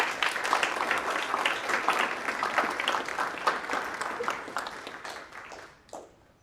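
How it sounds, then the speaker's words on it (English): An audience at a service dog team graduation applauds, brisk, dense clapping that gradually thins and fades out over several seconds. "So a special thank you and round of applause to all of those puppies."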